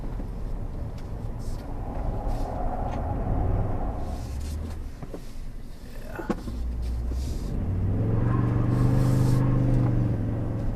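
A 2022 Toyota Tundra pickup drives a winding test course, its engine droning steadily with tire and road rumble, swelling as it powers out of corners and rising noticeably toward the end, with no voices.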